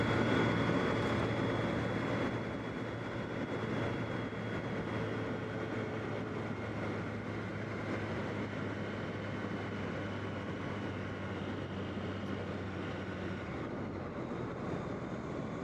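Steady broadband wind roar and rushing air around a helmet with the visor cracked open while riding a BMW K1300S motorcycle, loud and constant under the engine's low drone, with no talk.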